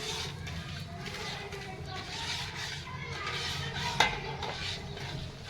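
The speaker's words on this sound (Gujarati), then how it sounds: "અત્યારે હવે ફટાફટ હલાવી દે મિક્સ કરીએ" An adadiya mixture is stirred quickly in a pan with a steady, soft scraping and shuffling. A sharp metallic clink sounds near the end, and people talk at low volume underneath.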